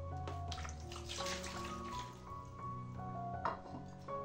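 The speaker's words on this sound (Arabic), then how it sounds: "غادي ناخذو هنا الماء." Water is poured into a bowl while a chermoula marinade is mixed for Moroccan roast chicken in a home kitchen, a soft splashing trickle with faint drips and small clinks, quiet and close.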